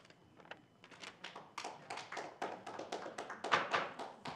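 Scattered applause rises from an audience at a town council meeting, a run of quiet, uneven hand claps that thicken toward the end. No voices are heard over it.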